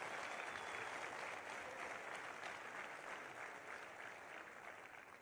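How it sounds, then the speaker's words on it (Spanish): A crowd applauds the teachers of Mexico at an in-person session, producing steady, even clapping that fills the room and slowly tapers off toward the end, heard at a moderate distance. "les pido a todos que demos un gran aplauso a las maestras y a los maestros de México"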